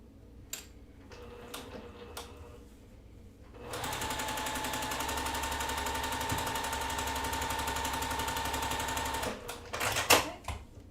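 A sewing machine stitching a quilt block, a steady fast whirring needle run of about six seconds, close and even, framed by a few scattered clicks and handling sounds before and after.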